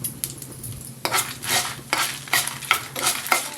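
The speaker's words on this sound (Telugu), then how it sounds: "ఇప్పుడు ఎండుమిర్చి వేసుకుందాం" Dried red chillies fry in hot oil with a tempering of black urad dal and mustard seeds, giving a close, steady sizzle broken by repeated scraping and clinking of a metal spoon stirring in the pan.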